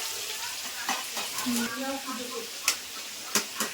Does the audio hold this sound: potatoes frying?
yes